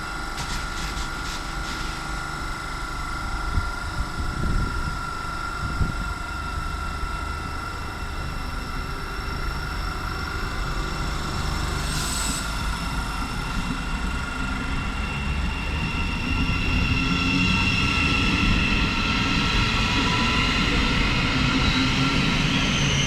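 Thameslink Class 700 electric passenger train, unit 700111 in NHS livery, departing Bedford station for Gatwick Airport, a steady rumbling drone with rising motor whine as it pulls away, continuous and fairly loud with no talk.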